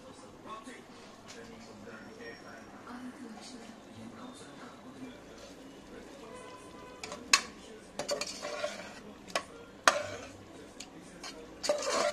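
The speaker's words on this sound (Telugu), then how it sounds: "సో ఇప్పుడు ఇందులో పెరుగు వేసుకుందాం." Yogurt is added to a pot of paneer dum biryani and stirred at home, with soft scraping and clinks of a spoon against the pot. Sharper metallic knocks arrive toward the end, and a voice talks underneath.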